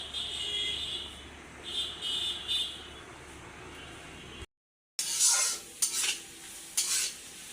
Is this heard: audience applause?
no